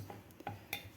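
A metal lid is set onto a pressure cooker holding lemon pickle, giving three or four light, close clinks and taps against a quiet background.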